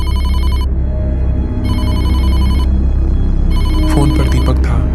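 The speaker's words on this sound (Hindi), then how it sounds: "फोन बजता है।" Telephone bell rings in loud repeated bursts in a Hindi horror story, each ring pattern lasting about a second with short pauses between, over a steady low background drone, with a few other clattering sounds near the end.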